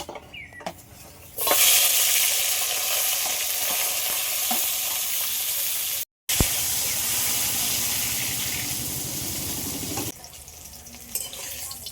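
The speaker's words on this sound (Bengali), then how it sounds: "এবার বেগুনটা ভেজে নেবো তেল গরম হয়ে গেছে" Eggplant slices dropped into hot oil, a loud, continuous sizzle and crackle lasting about nine seconds with a brief cutoff midway, then settling to a quieter bubbling of the pan.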